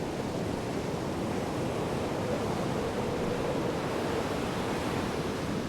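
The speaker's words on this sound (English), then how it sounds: "I'll leave you with you guys in the sound of waves" Ocean surf in the Lost Odyssey video game washes steadily with no breaks, a dense, even roar of breaking waves at moderate volume and no voices.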